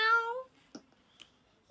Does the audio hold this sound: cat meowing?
yes